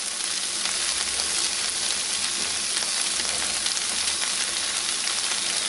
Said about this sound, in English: After the chicken is completely coated with sauce and that's sizzling nicely, add your rice.